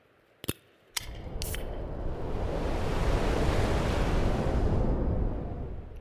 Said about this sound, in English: Like the sound of enjoyment you have just heard when I opened this can.